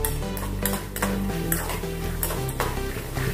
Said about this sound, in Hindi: अभी इसमें हम भुना हुआ चना डालेंगे।